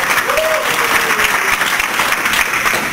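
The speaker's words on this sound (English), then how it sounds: "We give one more round of applause for everybody." Loud sustained applause from the crowd at an Oklahoma City entrepreneur meetup, dense and continuous for the full stretch, with a brief whoop rising over the clapping early on.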